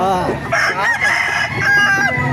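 A rooster crows loudly and close by at a busy gamefowl market, its long drawn-out call ringing over faint background chatter.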